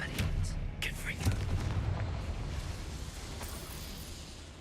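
Confringo spell blasts in Hogwarts Legacy, several sharp booming explosions in quick succession at the start, then a rumbling fiery tail that slowly fades, with a voice speaking over it.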